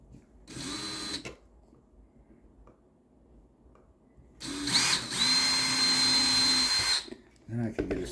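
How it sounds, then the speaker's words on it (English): Two bursts of a power drill whirring as it drills a hole while fitting a CF card into a computer floppy bay, a short one then a longer sustained run, with a quiet pause between and some handling noise after. "I think I want to drill a hole here first."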